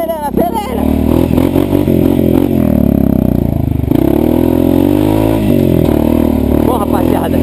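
A quad bike stuck in the mud revs its engine hard and continuously, loud and close, with people shouting over the roaring motor throughout.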